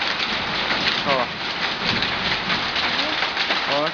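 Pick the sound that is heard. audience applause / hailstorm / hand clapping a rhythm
hailstorm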